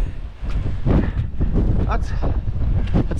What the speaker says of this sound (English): This is where the wind's gone.